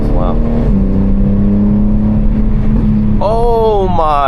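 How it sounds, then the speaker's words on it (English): A car launches and accelerates on a late-night drive, its engine holding a steady droning hum before the revs climb sharply near the end, loud and close from inside the vehicle. "Oh, he launched it. He's zooming."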